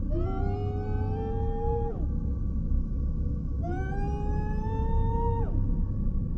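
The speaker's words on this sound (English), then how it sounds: "the forest suddenly echoed with the same wail everyone had heard the night before" Two long rising wails, each ending in a sudden drop, echo through a forest over a steady low rumble, a creature cry used as a Sasquatch sound effect in a scary story.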